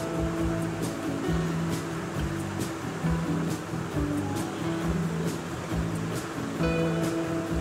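Beaten eggs hit a hot pan for Tamil-style egg podimas, giving a loud, continuous hiss and sizzle broken by repeated scraping strokes as they are stirred.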